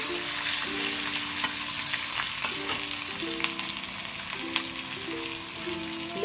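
Garlic frying in oil in a pan for a simple cabbage stir-fry, a steady close sizzle with crackling bursts and occasional stirring, no one talking.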